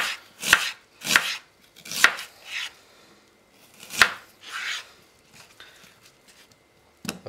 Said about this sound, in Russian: вторую половинку тоже пускаем на полукольца